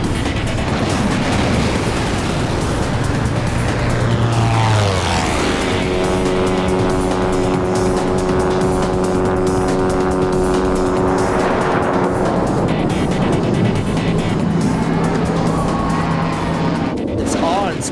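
A loud, continuous jet engine roar with a rising and falling whine as a truck powered by two jet engines screams past, dominating the whole clip.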